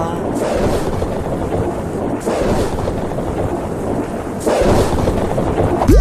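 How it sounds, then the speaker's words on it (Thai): Heavy thunder rolls and rumbles, with several louder cracks breaking through a constant roar of rain and wind. "เสียงฟ้าผ่า"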